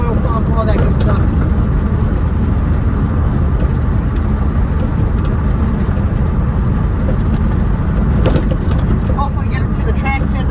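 A Ford Mustang GT with straight pipe exhaust and a rebuilt short block, heard from inside while driving, a loud continuous rumbling drone with constant low roar throughout.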